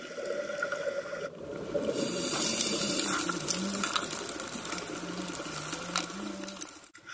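Fast-flowing water at Morrison Springs in Ponce De Leon, Florida, churns and bubbles steadily up close, with clicking, rattling textures mixed into the continuous rush.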